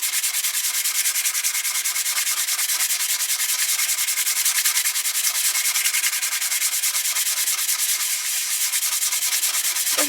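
Suzuki Bandit 1200 motorcycle rearsets being sanded with 240 grit paper, a steady, close, rhythmic rasping rub of abrasive on metal that continues evenly throughout without pause.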